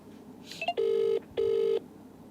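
Two clear phone ringback tones sound in sequence after a brief burst of dialing beeps, as a call is placed for a prank to a wife, with no talk over the rings.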